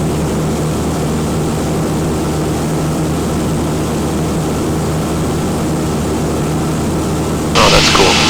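A Cessna's propeller engine drones steadily and loudly from inside the cabin in flight during a cross-country training flight, with a brief radio crackle near the end.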